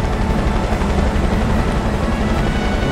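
A helicopter in the BigFoot video game, a loud continuous rotor drone and engine roar held steady throughout at close range.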